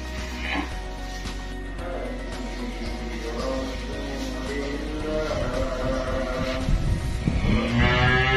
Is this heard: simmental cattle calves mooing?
yes